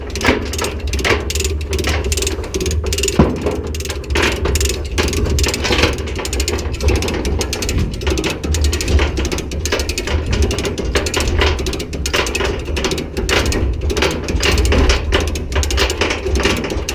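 Dense, continuous ratcheting and gear clatter from a hand winch cranking a boat up onto its trailer, steady and close throughout with no talk over it.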